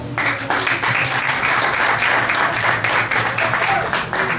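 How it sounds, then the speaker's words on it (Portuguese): A church congregation claps together in steady, loud applause that fills the room and holds throughout, with some voices mixed in. "Quem quer ouvir a palavra do Senhor, dê uma salva de palmas."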